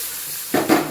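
Asafoetida, cashews and curry leaves dropped into hot oil for tempering sambar rice: a steady background sizzle, then two quick crackling bursts as the ingredients hit the pan and get stirred, close up and brief.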